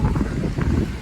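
Strong wind buffeting the microphone on a closed, unplowed mountain road after a snowstorm, a loud low roaring rush in gusts, close and continuous.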